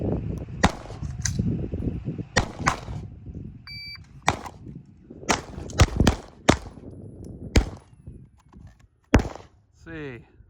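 Glock 19 pistol fired with a Mec-Gar steel magazine during a timed shooting drill, a series of sharp, spaced shots in an irregular rhythm, with a timer beep early on and some talk mixed in.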